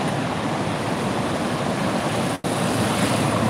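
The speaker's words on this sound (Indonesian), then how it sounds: "panorama pantai ya, yang penuh dengan ombak" Loud, continuous rush of ocean surf washing onto a beach on a late afternoon, with wind buffeting the microphone and a brief dropout before the roar resumes.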